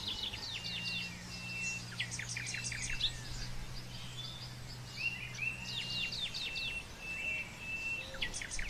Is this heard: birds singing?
yes